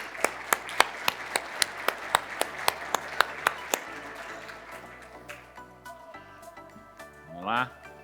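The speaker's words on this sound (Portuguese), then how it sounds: "Muitas palmas, senhoras e senhores." Scattered clapping from an audience at a corporate tribute during an international Six Sigma congress in Brazil, sharp distinct claps in a steady rhythm for about four seconds, then thinning out into room murmur and a brief voice.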